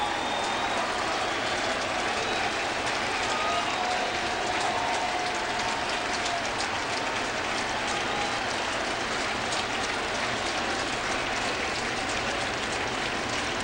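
A baseball stadium crowd stands and cheers in a steady, dense roar of applause and noise that fills the whole stretch, with no breaks, during a Dodgers at Cardinals game.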